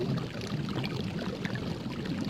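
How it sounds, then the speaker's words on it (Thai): Clean water gushing from a large banyan tree, a steady pouring, splashing rush of moderate loudness lasting the whole moment with no voices. "น้ำไหลสะอาดร่ำพรูออกมาจากต้นไทรใหญ่"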